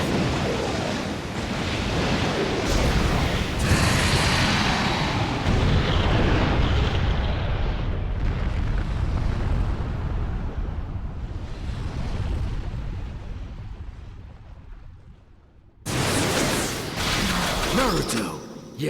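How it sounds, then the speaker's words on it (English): A fire-style flame jutsu in Naruto Ultimate Ninja Storm 4 roars as a loud, sustained rushing blast like surging surf and wind, fading before a sharp final burst near the end. "Fire style! Majestic flame jutsu!"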